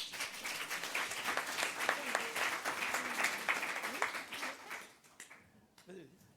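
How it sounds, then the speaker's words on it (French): Room of conference attendees at a freelancing talk breaks into steady, dense applause for several seconds, then it thins out and fades near the end. "Est-ce qu'on peut l'applaudir aussi ?"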